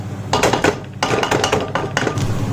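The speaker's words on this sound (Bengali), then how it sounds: "আমি কভার করে থই দেই।" A lid is set on a cooking pot of frying onions and rice in a home kitchen, giving three quick metallic clattering bursts, close and fairly loud.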